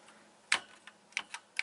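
A BBC Master computer keyboard is typed on in sparse, irregular keystrokes, a handful of sharp close clicks in a quiet room.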